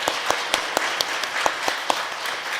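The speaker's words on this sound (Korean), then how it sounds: "우리 축하의 박수를 드리겠습니다" Brief applause from a church congregation at a Sunday service, clapping to congratulate two newly baptized members; scattered sharp claps stand out against a steady wash of hands, moderately loud, with no talking.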